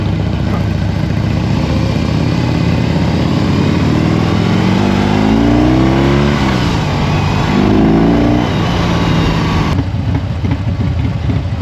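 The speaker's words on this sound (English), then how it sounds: "I need to get some revs up on that" Cruiser-style motorcycle engine revved hard while riding, a loud, close, rumbling drone whose pitch climbs, dips and climbs again over continuous wind and road noise.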